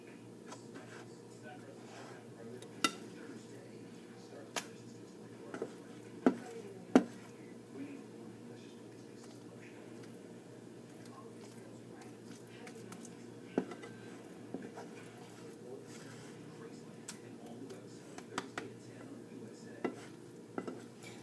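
Food being flipped and stirred in a pan on a home stove, with intermittent utensil clinks and scrapes against the pan over a faint background, while a person talks throughout.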